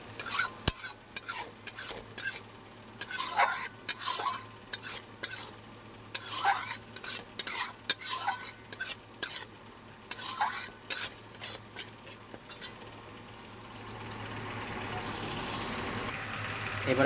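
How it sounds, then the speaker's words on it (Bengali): A spoon works spice paste around a hot pan for Bengali chicken kosha in rhythmic scraping, clinking strokes over a low sizzle, the stirring pausing near the end as a steadier frying hiss swells. "ভালো করে মশলাটাকে এবার আমি একটু কষে নেবো, যাতে মশলার কাঁচা গন্ধটা চলে যায়।"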